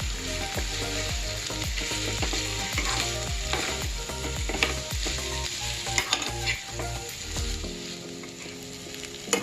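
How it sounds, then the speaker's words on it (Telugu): Spring roll filling of boiled potato and spinach stirred in a hot pan with chilli sauce, a close, steady sizzle broken by repeated rhythmic scrapes of the spoon against the pan. "కలుపుకోవాలి అడుగు దాకా."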